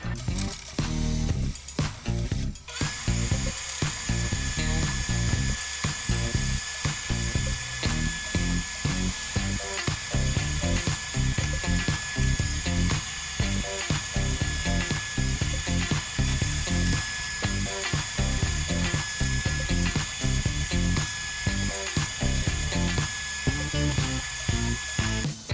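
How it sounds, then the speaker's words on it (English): A power sander with a bowl finisher whines steadily with a high tone while rhythmic rasping pulses repeat throughout as it sands a plywood bowl, loud and close, with no voices. "using my bowl finisher and then doing some hand sanding"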